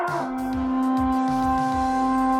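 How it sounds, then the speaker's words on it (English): A short Fortnite battle call emote sound effect, a sustained synthetic tone over low rhythmic pulses, playing alone for a couple of seconds. "The battle call emote sounds like this."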